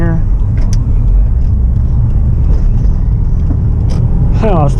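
A Subaru WRX fitted with a Cobb Big SF intake drives along with a loud, steady engine rumble and road noise heard from inside the car, with a brief voice near the end.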